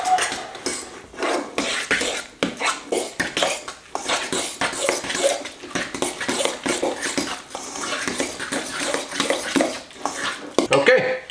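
Egg salad being mixed in a bowl, with quick, uneven clatter and scraping of a utensil against the dish, fairly close and busy throughout.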